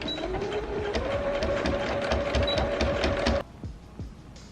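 A sewing machine runs a tiny straight stitch on fabric, close and loud. It gives a rapid, even mechanical chatter with a whining motor tone for a few seconds, then stops abruptly, leaving a few faint clicks.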